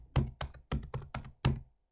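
Six separate clacking keystrokes on a computer keyboard, close and crisp, spaced unevenly over two seconds, with quiet in between and no talking.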